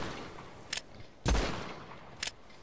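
A revolver fires in GTA 5 Online, three separate sharp shots spread across a few seconds, the middle one loudest and followed by a short tail, against quiet game background.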